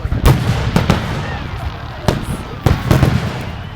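Canada Day fireworks going off outdoors, with several sharp, loud bangs and crackling bursts in uneven clusters, heard close amid ambient crowd noise.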